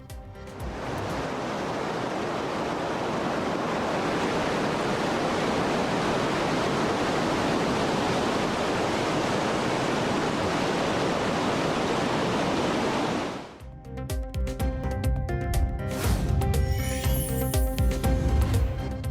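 Floodwaters of the Kaveri River roar over the falls at Hogenakkal, a dense, steady, loud rush that holds for about thirteen seconds before cutting to a different sound.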